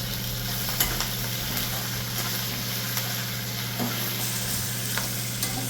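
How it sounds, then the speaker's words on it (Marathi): Green chillies frying in a little oil, a soft continuous sizzle with faint occasional utensil taps, close and fairly quiet, no one speaking. "हिरवी मिरची थोडीशी तेलामध्ये फ्राय करून घ्यायचं"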